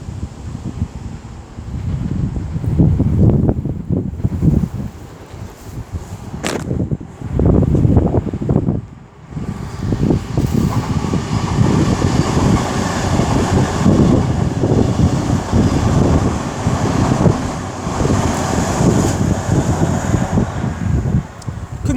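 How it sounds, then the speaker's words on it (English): A cross-country train rushes past the platform at Lichfield Trent Valley station, a loud, sustained roar with heavy wind buffeting the microphone that swells and persists for the whole stretch, with no talking. "I don't know if you lot even see the train"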